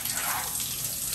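Shower water runs in a short, steady, hissing spray close by.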